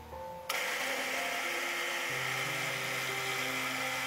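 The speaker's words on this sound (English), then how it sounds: "Keep the bamboo straight on the drill bed perpendicular to the drill bit" A drill press with a 30mm Forstner bit starts up abruptly and bores into a hollow bamboo pole, a loud continuous whining grind that deepens slightly as the bit bites, close and alone.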